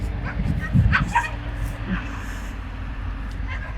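Several dogs bark and yip at a distance in short bursts, mixed with people talking nearby.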